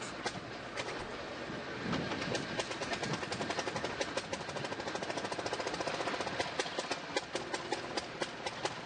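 Rail wheels clack rhythmically over track joints as a railroad motorcar rolls steadily along, with a continuous rumbling hum beneath the repeating clicks.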